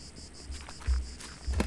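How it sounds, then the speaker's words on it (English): Cicadas chirp outdoors in the horror video game The Last Door, a continuous buzzing trill with a few low thumps underneath. "Cicada."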